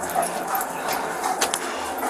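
A police dog barks and yips during a chase after a fleeing suspect, the bursts short and moderately distant beneath steady radio hiss and background noise.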